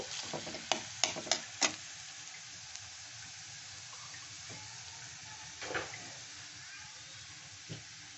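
Bottle gourd and shrimp sautéed in a pan, a soft steady sizzle with a quick cluster of spatula scrapes at the start and a few later stirs, fairly quiet and close.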